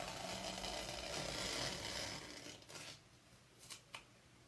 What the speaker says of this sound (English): I'm going to peel off the tape and reveal the tree shapes left behind